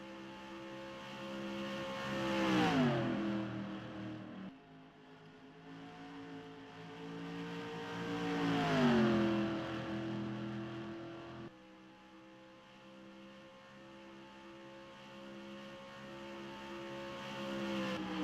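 Race cars accelerate around an oval track in a FARCA Atlanta 40 race, two engines swelling in turn as they pass with a falling pitch, then fading into distant steady engine drone.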